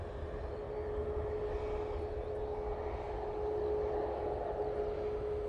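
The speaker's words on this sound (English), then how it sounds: "PC12 now departing." A Pilatus PC-12 turboprop departs Manchester Airport, heard as a steady, moderately distant engine drone with a constant whine that swells slightly toward the end.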